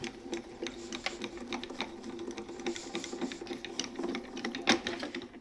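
A die-cutting machine fitted with an embossing mat cranks a card through, giving a close, steady rhythmic ratcheting whir for several seconds, with no talking.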